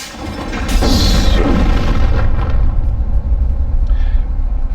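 Loud explosions in the video game The Thing, a heavy booming rumble that swells and holds steady with a brief bright crackle early on, no talk over it.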